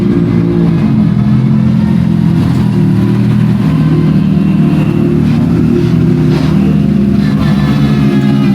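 A rally car rumbles loudly and steadily at close range as it arrives at the service park, its engine droning and revving continuously with no talking.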